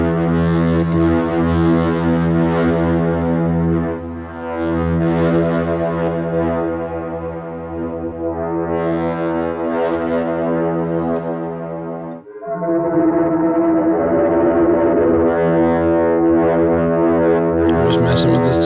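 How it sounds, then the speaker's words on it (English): A synth tone plays through heavy distortion, droning and gritty, with the character shifting midway as the effect is adjusted; loud and continuous. "Just messing with this distortion."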